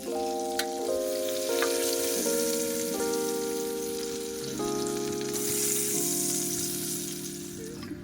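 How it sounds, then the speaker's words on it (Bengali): Prawns frying in hot oil in a kadai for prawn malai curry: a constant bright sizzle runs through, with sustained background music tones over it. "তেল গরম হয়ে আসলে চিংড়ি মাছগুলো একে একে দিয়ে দেবো।"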